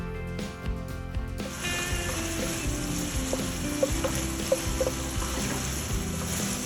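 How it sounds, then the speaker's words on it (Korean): Meat fries in butter in a pan for Japanese-style curry and is stirred as it sears. A steady close-up sizzle runs throughout with a few scraping stirs and small pops. "버터에 고기를 볶아서 고기의 풍미를 올려주고 고기가 더 맛있게 육즙을 가두는 과정입니다."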